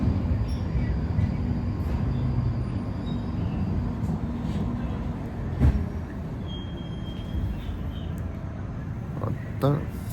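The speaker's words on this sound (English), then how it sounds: "This is a Northern Line train terminating at High" A London Underground Northern Line tube train runs toward High Barnet near Kentish Town, heard from inside the carriage as a steady, loud rumble with occasional clanks and squeals over the full stretch.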